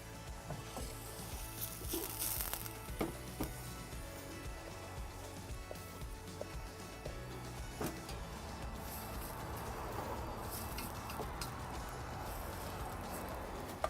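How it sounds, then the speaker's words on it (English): Spices sizzle in a hot pan over a wood fire, a faint, steady crackling hiss like light rain with occasional pops, no voices. "And that's already up to a sizzle behind me"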